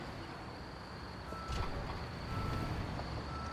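In the Construction Simulator game on PS5, a truck backs up at a construction site with a steady high reversing beep repeating over a constant engine drone, moderately loud throughout.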